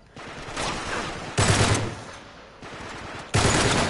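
Gunfire in the video game Uncharted: The Nathan Drake Collection, loud bursts of rapid shots in two sustained volleys separated by a brief lull, close and with no talk.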